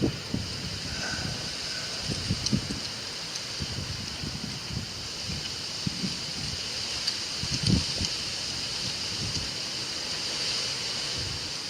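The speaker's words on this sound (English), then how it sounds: "The wind is brutal." Strong wind gusting over a microphone outdoors during a night-sky watch: a steady, close rushing roar with low buffeting thumps scattered throughout and no voices.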